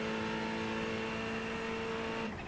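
A Ferrari 488 GT3 Evo race car engine in the iRacing simulator, holding a steady high-pitched drone with strong tonal harmonics, then shifting as the revs change near the end, continuous and fairly quiet, with no voices.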